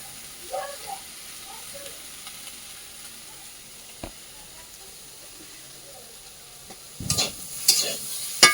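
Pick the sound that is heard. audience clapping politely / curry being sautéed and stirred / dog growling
curry being sautéed and stirred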